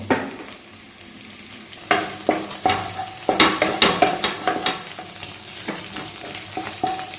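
An egg fries in a pan while a spatula stirs and scrapes it, with a steady low sizzle under repeated sharp clinks and scrapes in an uneven rhythm, close and fairly loud.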